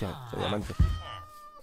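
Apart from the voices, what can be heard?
cat meowing in Minecraft video game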